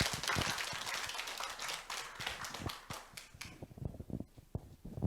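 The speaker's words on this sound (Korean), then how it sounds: "박수 부탁합니다" Audience applause at a civic lifelong-learning forum in a Korean city hall setting, a burst of claps from a seated crowd fading out after a few seconds into scattered single claps.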